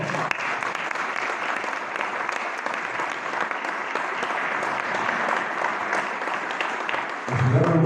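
Sustained audience applause at a round-table discussion on a decentralization law, a dense and even wash of clapping that swells louder near the end.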